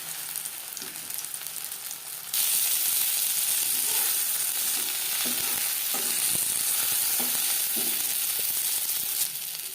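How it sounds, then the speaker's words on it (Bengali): Fish sizzles in a frying pan with a loud, continuous crackling hiss, jumping up sharply after a couple of seconds and then staying strong and steady with occasional spatters and no speech. "একইভাবে ভেজে নেব।"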